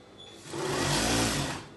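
A sewing machine runs a half-inch seam around a dress sleeve, its motor whirring up to a steady, close hum before easing off slightly, with no talking.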